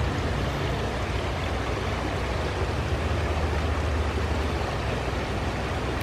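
Steady rushing flow of a babbling river, a broad continuous wash of water that stays even and fairly close throughout, with no voices.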